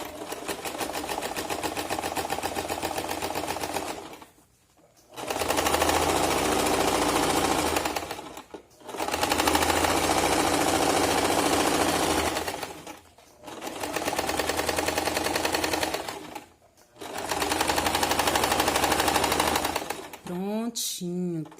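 Domestic sewing machine stitching a fabric school pencil case, running in four long steady bursts of rapid mechanical chatter separated by brief pauses, close and loud, with a short squeak at the end.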